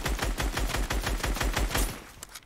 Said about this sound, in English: Watch out, there's shooting.